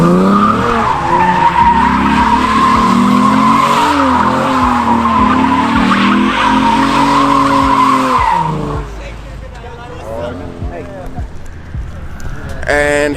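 Cars doing burnouts at an end-of-season car meet in Atlanta, one a Camaro, give loud sustained tire squeal with engine roar, then fade into crowd noise and chatter as people talk nearby.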